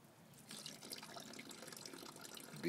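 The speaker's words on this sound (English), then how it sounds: "Go cut the water off." A tap left running outdoors while a car is being washed, giving a faint, steady rush of water at moderate distance with no voices over it.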